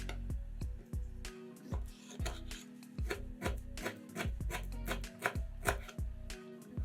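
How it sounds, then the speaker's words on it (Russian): A knife chops dried apricots into small cubes on a cutting board, a steady run of close, crisp taps with a fairly even rhythm and no talking. "Курагу тоже нарезаем маленькими кубиками."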